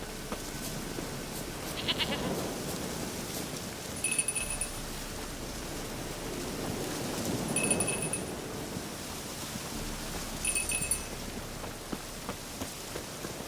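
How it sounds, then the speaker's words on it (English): Steady rain in The Witcher 3 patters and hisses throughout, with a few faint bleating goat-like calls rising above it now and then. "Looks like rain."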